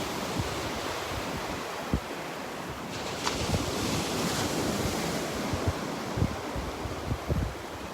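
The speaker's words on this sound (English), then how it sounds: "Love these waves." Ocean waves wash continuously onto the beach at Delnor-Wiggins, a broad, steady surf roar with gusts of wind buffeting the microphone and a few soft thumps.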